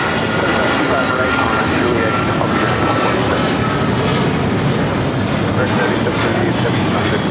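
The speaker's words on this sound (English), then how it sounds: "777 on its way out to JFK." A Boeing 777 departs LAX bound for JFK, its engines a loud, steady broadband roar that fills the whole stretch, with talk mixed in underneath.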